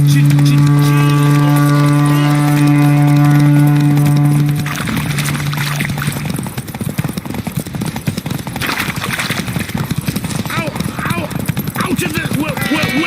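Horse hooves gallop in a Witcher 3 race, a steady clip-clop rhythm driving on after a sustained musical drone cuts off, with clattering game action layered over it.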